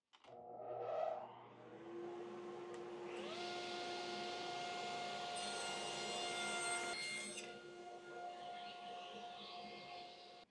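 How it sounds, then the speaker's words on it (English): A power saw squares up the ends of a half-inch-thick cherry wood panel: the motor spins up into a steady whine, holds a loud, even cut for several seconds, then winds down, with no talking over it. "the first thing I'm going to do is square up the ends on this panel"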